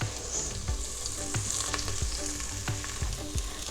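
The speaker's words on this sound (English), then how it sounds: "Saute for a couple of minutes." Aromatics and cilantro roots sauté in a preheated pot for chicken congee, a steady close sizzle broken by several sharp scrapes and clanks of a utensil stirring against the metal.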